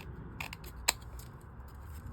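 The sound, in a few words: scissors undercutting and trimming a die-cut frame piece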